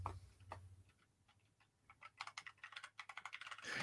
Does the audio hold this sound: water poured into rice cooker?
no